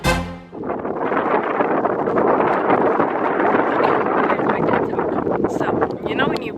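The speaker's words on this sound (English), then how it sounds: "right off the bat, it was windy as fuck." Strong wind roars steadily outdoors and batters the microphone in a loud, continuous rush, with faint voices half-buried beneath it.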